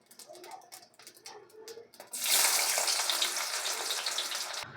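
Chopped onion drops into hot oil and ghee for chicken fried rice, setting off a sudden loud, dense sizzle that holds steady for several seconds after a few quieter kitchen sounds.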